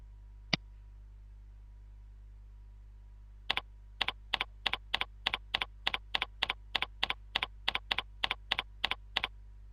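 A computer keyboard clicks as a username is typed, one lone keystroke followed after a pause by a quick, even run of about twenty crisp, close taps in a quiet room.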